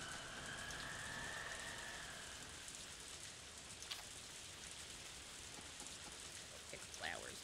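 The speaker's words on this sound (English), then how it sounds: "Still raining." Steady soft rain in a video game patters continuously, faint and even, with a few small clicks and a brief tonal chirp near the end.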